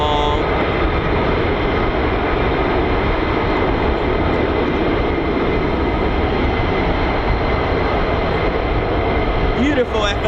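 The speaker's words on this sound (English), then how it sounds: "Beautiful F-35A there" A US Air Force F-35A fighter jet taxis at a military airfield, its engine a loud, steady, broadband roar with a whining tone that holds for the whole stretch, with a voice briefly audible.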